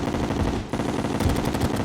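Machine gun fire in the video game Terraria, rapid close bursts of shots in a fast continuous stream with a brief gap in the middle, without talk.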